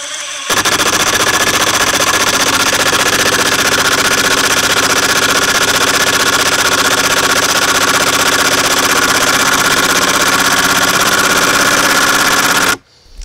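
Makita LXT impact driver running a screw on its slow speed setting makes a loud, rapid, continuous hammering rattle for about twelve seconds, close and steady, then cuts off abruptly.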